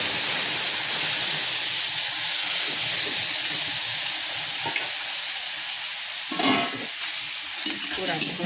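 Spices and garlic sizzle and crackle loudly in hot oil for a tempering, a steady frying hiss with a few sharper bursts of spatter toward the end.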